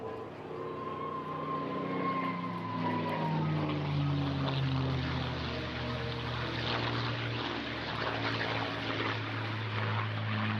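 A P-51D Mustang fighter flies past at the Eastbourne International Airshow, its propeller engine droning loudly and steadily as the pitch gradually shifts during the pass.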